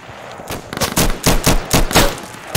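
Rapid gunfire crackles from all sides in the tactical shooter game Insurgency, loud bursts of automatic fire coming in dense repeated volleys with no pauses.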